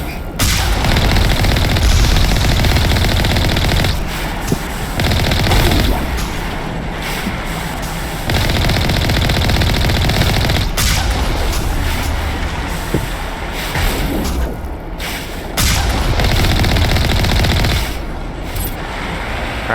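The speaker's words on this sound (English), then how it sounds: "I guess I can overheat the Mako's weapons. So can't just spam the machine gun." Mako vehicle machine gun fire in the Mass Effect video game, dense sustained bursts of loud gunfire with booming impacts running almost continuously, broken by brief pauses.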